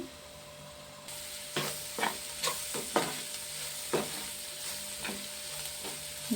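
Pieces of food fry in a pan with a soft continuous sizzle, broken by several brief stirring scrapes and clicks at an uneven rhythm.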